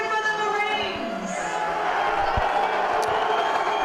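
Stadium crowd at a Navy versus Marines match cheering and shouting for the Marines, a broad sustained roar with scattered claps and a thump, under a faint announcer's voice.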